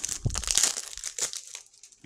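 Plastic wrap being cut and peeled off a boxed Zelda: Echoes of Wisdom game case, giving close crinkling and crackling in short bursts, with a louder rustle in the middle and a quieter one near the end.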